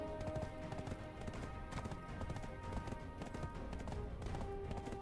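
A horse in the MMORPG Black Desert Online clip-clops steadily along, its hoofbeats a quiet rhythmic patter buried in dense, constant game music and ambience.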